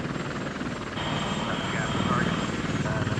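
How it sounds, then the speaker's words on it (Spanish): Apache military helicopters fly at night loaded with missiles, their rotors giving a steady rapid chopping thrum with engine whine, loud and continuous, overlaid by a voice speaking over them. "8 helicópteros Apache cargados con poderosos misiles dirigidos hacia Irak."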